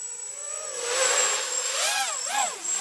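A RoboCat 270 quadcopter drone flying fast in angle mode at full throttle gives a steady, fairly loud whine that rises and falls in pitch as it climbs and maneuvers, heard alone without talk.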